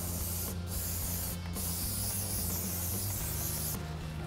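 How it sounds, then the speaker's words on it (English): Brake parts cleaner sprayed onto a car's brake caliper bracket, a steady continuous aerosol hiss running the full length at close range with a low hum beneath and brief dips in the spray. "Take our brake parts cleaner"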